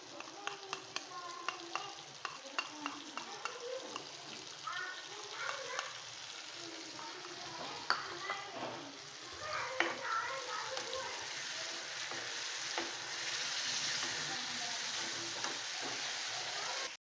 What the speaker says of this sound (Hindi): 1-2 मिनट तक अभी देखिए उबल हल्का सा, ये देखिए बुलबुले बन रहे हैं।